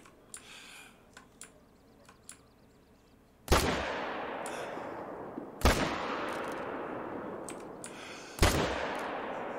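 Three loud rifle shots from theHunter: Call of the Wild during a wolf hunt, each a sharp crack with a long decaying rumble, preceded by faint ticking clicks and quiet game ambience.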